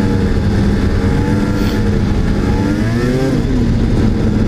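A snowmobile engine revving hard on a frozen lake, close and loud, with a steady roar and rising and falling pitch sweeps as the throttle works through drifts.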